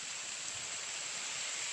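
Rain falling steadily outdoors, a continuous soft hiss at moderate-low level with no break and no voices.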